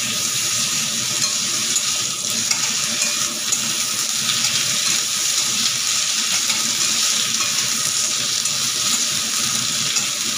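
Ground ginger and cumin paste fries in a hot pan, giving a loud, continuous close sizzle that stays even throughout with no voices.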